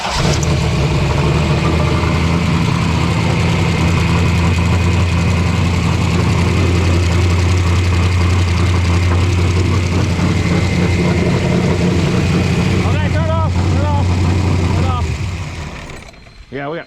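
An engine with its spark plugs removed is cranked over to oil the lifters, giving a loud, steady, droning churn held for about fifteen seconds before it stops, with voices faintly under it.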